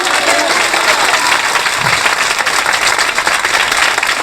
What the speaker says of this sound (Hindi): विश्वास करने वाले जोरदार तालियां